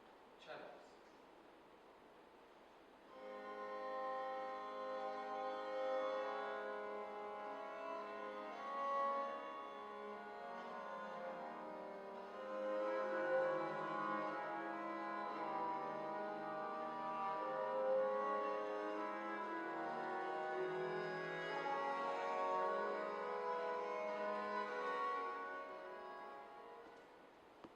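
Early cello with a nasal tone playing a sustained, rich melodic line with strong harmonics, continuous and fairly close for most of the clip after a quiet opening.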